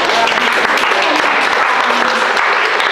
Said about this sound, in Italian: un applauso per loro